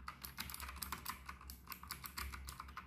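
Fast, continuous typing on a noisy gaming keyboard with blue switches. The sharp clicky keystrokes sound close but quiet, with no voices.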